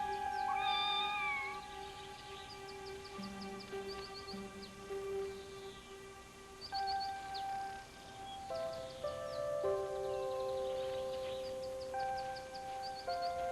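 A kitten in a barnyard meows repeatedly in thin, rising cries. Steady tonal background calls and faint bird chirps run alongside under a constant low hum.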